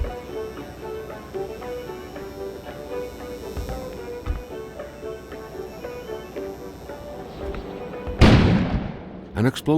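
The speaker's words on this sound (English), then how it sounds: "An explosion suddenly occurred outside." A sudden explosion booms outside in a 1970 Northern Canada story setting, a loud broadband burst erupting late after a stretch of quiet music and ambience, with a second hit trailing at the very end.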